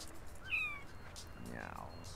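A cat meows in the video game No More Heroes, one clear short mew near the start amid game sounds, followed by softer, murky noise and faint voice-like tones.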